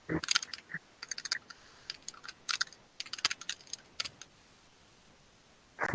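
Computer keyboard typing, bursts of quick key clicks in irregular clusters with short pauses, fairly close and moderately quiet, with no voices.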